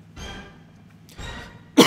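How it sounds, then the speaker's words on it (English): A single short cough comes up near the end of a brief stretch of soft breathy vocal sounds, close to the microphone. "And there's cough number one"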